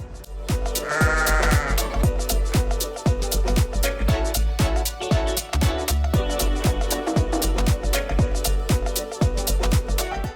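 A chorus of sheep bleating loudly and continuously near Stonehenge, many overlapping calls from nearby animals with no talking.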